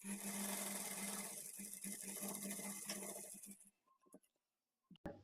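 Sewing machine stitching a fall onto a saree edge, running in a fast steady whirr for several seconds, then stopping, with a few light clicks and handling taps afterward.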